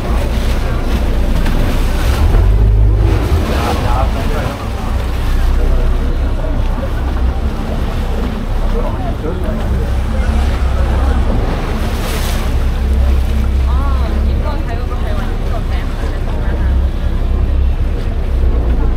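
Ferry boat crossing the Chao Phraya river from Sathorn pier in Bangkok to ICONSIAM in the evening, with continuous loud engine rumble, splashing water and wind buffeting the microphone throughout.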